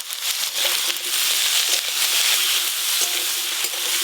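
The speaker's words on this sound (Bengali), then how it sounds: "গরম তেলে ভালো করে একটু নেড়ে নেব" Cut kheru taro pieces fry in hot oil while being stirred, a loud, close, crackling sizzle with scraping stirs running throughout.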